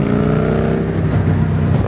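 A Victory Hammer S motorcycle engine holds a steady, loud, continuous roar with a deep low rumble throughout, as if revving while riding in second gear.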